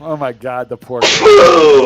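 A voice speaks briefly, then a single sharp sneeze bursts out, loud and close.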